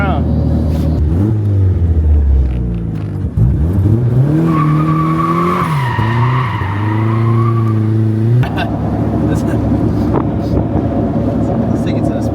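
A 1992 Mazda Miata with a turbo engine spins its tires while being turned around, giving a loud, sustained screech with rising and falling engine revs up close. A voice talks over it for much of the time.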